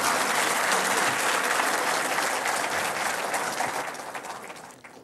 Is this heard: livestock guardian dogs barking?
no